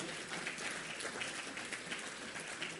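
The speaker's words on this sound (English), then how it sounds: "request for another round of applause for Dr. Quresh Muscati" An audience at an ophthalmology conference inauguration applauds a doctor, a continuous wash of clapping heard at a distance, even and unbroken.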